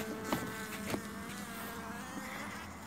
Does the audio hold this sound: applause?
no